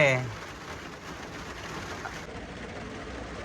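Rain falls steadily as a soft, even wash of drops, faint and continuous, with a brief voice-like sound at the very start.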